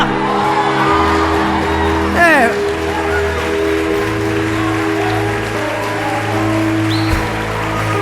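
Church congregation applauding and cheering, with whoops and shouts rising over a steady sustained musical background, a brief loud burst of cheering partway through, voices mixed into the crowd noise throughout.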